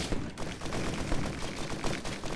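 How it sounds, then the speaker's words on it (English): Fireworks in the video game Risk of Rain go off in a rapid crackling burst of pops and bangs, dense and continuous like a fusillade, with no talk over them. "Oh, these light off fireworks."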